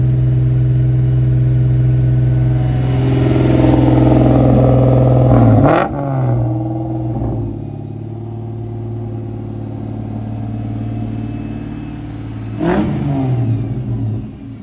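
A 2003 Ford Mustang Cobra engine revs hard and loud for about six seconds, drops to a rumbling idle, then revs again briefly near the end, with the throttle held and released.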